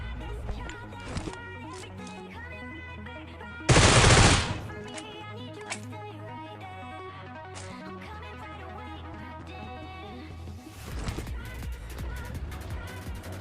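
Gunfire in the video game PUBG, scattered sharp shots and short bursts over steady in-game music and background effects, including one loud burst lasting under a second and a noisier stretch near the end, with a player talking throughout.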